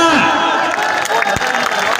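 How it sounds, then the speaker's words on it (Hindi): A crowd at a political gathering applauds and cheers loudly, sounding dense and close, with voices shouting over the clapping. "तालियां।"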